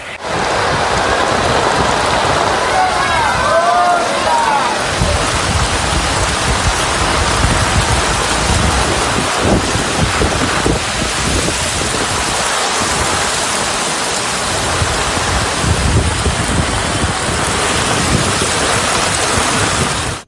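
Heavy rain pours down on a mountain road at Tirumala, with runoff water rushing across it in a loud, dense, continuous roar of splashing and flowing water and no voices.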